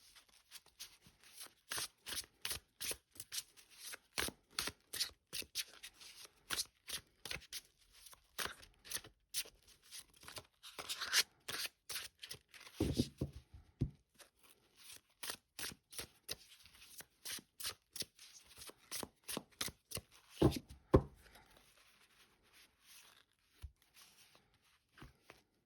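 Crisp tarot cards are riffled and shuffled by hand in a long, steady series of quick flicking bursts, close and clear, with brief pauses between runs.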